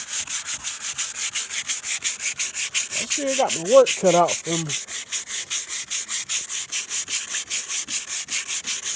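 Steady rhythmic scraping of 220-grit sandpaper rubbing back and forth on a car door, close and continuous, with someone speaking briefly partway through.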